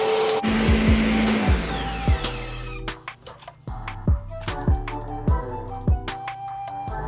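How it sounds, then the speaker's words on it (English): A blender purees chili sauce for fries and hot dogs: a loud, steady motor whir runs for a few seconds and then cuts out, followed by scattered knocks and clatter from the jar. "So you just blend it up until it's pureed."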